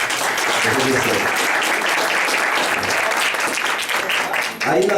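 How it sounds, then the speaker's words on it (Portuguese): A church congregation at a seminar on eschatology breaks into sustained applause, dense clapping filling the room for several seconds, with a voice briefly speaking over it near the end. "Damos um aplauso a Jesus."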